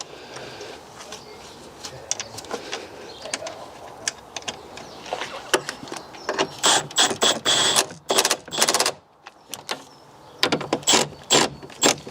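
A ratchet spins 13mm nuts onto the rear shock absorber of a BMW E46 3 Series, with quiet handling noise at first, then bursts of fast, close clicking strokes that stop and restart several times.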